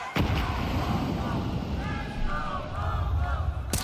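Grenade blast in Counter-Strike during a G2 versus MongolZ match at the StarLadder Budapest Major 2025, a loud booming burst with rumbling tail under excited commentary.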